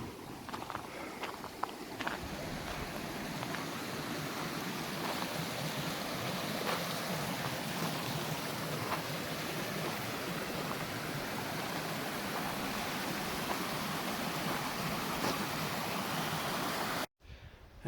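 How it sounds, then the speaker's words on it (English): A creek in Cheyenne Canyon near Colorado Springs rushes over rocks, a steady close hiss and burble of flowing water heard alone until it ends abruptly. "Here's more of the creek."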